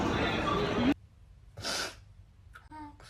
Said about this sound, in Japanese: くしゃみ出そう。